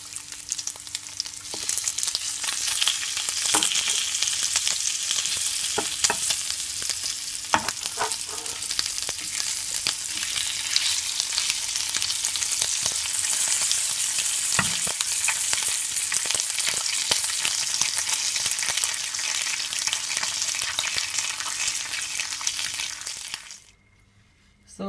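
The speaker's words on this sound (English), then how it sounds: "So this is the pot that I used to fry my bacon." Bacon frying crisp in a pot, a dense steady sizzle and crackle with occasional pops and stirring scrapes, continuous and close for most of the clip before cutting off near the end.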